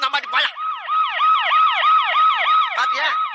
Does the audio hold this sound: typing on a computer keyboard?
no